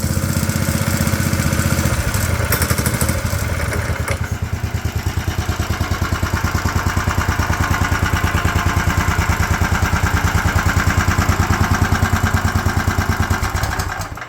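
A small engine on a personal track vehicle idles steadily and loudly close by, a fast even putter that holds for the whole stretch with no talking.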